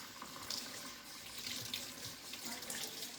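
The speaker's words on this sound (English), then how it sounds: "just run the water and get it out of the dishcloth and down the sink it goes" A kitchen sink faucet runs steadily as a dishcloth is rinsed, a soft, continuous hiss and splash of flowing water, fairly quiet and with no talking.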